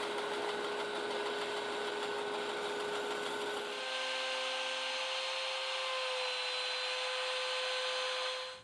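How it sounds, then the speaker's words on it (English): A bandsaw fitted with a plastic-cutting blade slices a plastic guitar pickguard, a steady high whine and rasp that shifts in tone partway through as the cut changes, ending abruptly. "Our little plastic blade in our awesome bandsaw, so we'll go over and use that and start on this."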